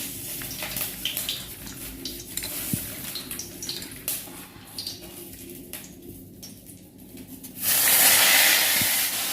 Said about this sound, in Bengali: পেঁয়াজগুলো একটু লাল লাল করে ভেজে